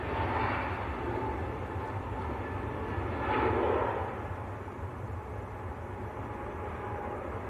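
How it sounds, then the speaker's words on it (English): An EasyJet airliner bound for Hurghada rolls for takeoff at Manchester, producing a sustained low engine roar with a brief surge in the middle, fairly distant and without talk. "And an EasyJet on the roll."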